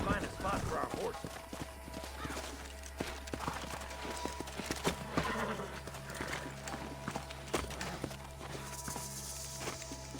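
Horses clip-clop at a walking pace in the Red Dead Redemption video game. The hooves make steady, moderately close clopping beats with occasional snorts, heard under voices talking.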